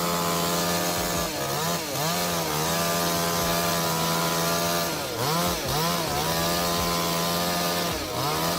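Chainsaw cutting into a long-rotten tree, loud and close, holding a steady high whine with several brief dips and rises in pitch as the load changes, no talking.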